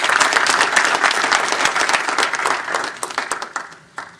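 An audience at a live event breaks into loud, sustained applause, a dense wash of many hands clapping that thins out toward the end.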